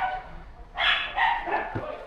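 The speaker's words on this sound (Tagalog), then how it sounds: "pasensya na sa ingay ng aso" A dog barks and yips a few times at moderate distance inside a Bunnings store, short whining barks over faint background noise.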